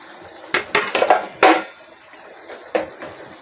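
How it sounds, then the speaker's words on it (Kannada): A steel plate resting as a lid on a pan of tomato vangi bath is lifted and set down, giving a cluster of sharp metallic clanks and scrapes, then a lone clank after a pause. "ಇವಾಗ ಮುಚ್ಚಿರೋ ತಟ್ಟೆ ತೆಗಿತಾ ಇದ್ದೀನಿ."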